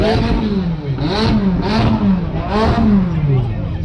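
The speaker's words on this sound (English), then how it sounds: "McLaren's having a rev." A McLaren sports car revs its engine at a car meet, rising and falling in several bursts with harmonic whine, fairly near and loud, with people talking over it.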